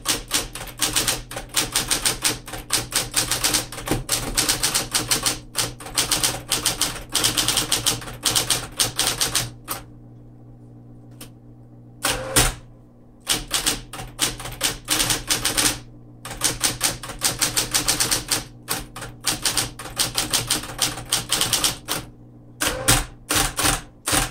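A 1961 Smith Corona Model 200 typewriter clatters in rapid runs of sharp keystrikes, with brief pauses and a few isolated clacks, loud and close.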